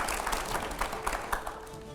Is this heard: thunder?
no